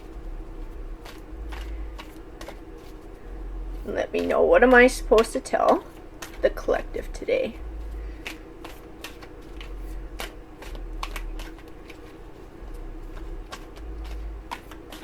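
A deck of tarot cards is shuffled by hand in a rapid riffling burst of a couple of seconds, followed by scattered soft card taps, while a person talks nearby.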